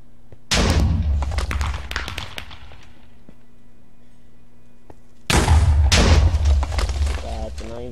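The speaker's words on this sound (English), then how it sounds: "Grenade out." Grenade explosions in the Minecraft shooter mod Minestrike, two loud booming bursts a few seconds apart, each followed by a decaying rumble, with voices talking over the blasts.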